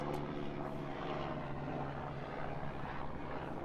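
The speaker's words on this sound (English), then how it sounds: "That's a helicopter" A helicopter flies overhead, a steady low droning rumble with rotor throb heard from inside a Jeep Wrangler Rubicon 392, continuous and fairly loud with no speech.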